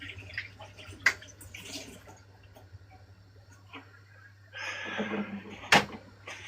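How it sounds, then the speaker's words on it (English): Running water at a kitchen sink as food gets a quick rinse, a steady hissing stream that swells for a couple of seconds after soft clinks and knocks. "Give it a little rinse."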